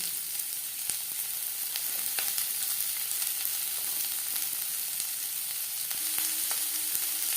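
Chopped onion sizzles steadily in mustard oil in a pan, a continuous close frying hiss with occasional stirring clicks and no talk.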